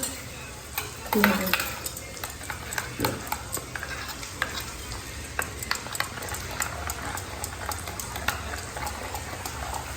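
A spoon stirs and scrapes in a pan as a spiced oil tempering for shahi paneer sizzles and spatters steadily, with intermittent clinks of metal against the pan.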